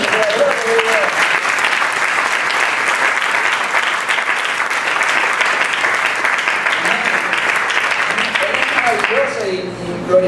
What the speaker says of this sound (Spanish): yo te pido que le des un aplauso